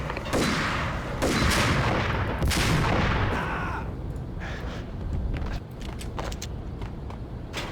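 Gunfire in the 2001 video game Max Payne: several loud, rapid shots and bursts crack over a dense, noisy game soundscape, easing into scattered mechanical clicks and lighter sounds.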